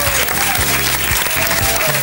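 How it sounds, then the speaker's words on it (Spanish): Loud studio audience applause on an Argentine television talk show, dense continuous clapping for a guest, close and steady across the short stretch with music tones underneath. "Un fuerte aplauso para él, por favor."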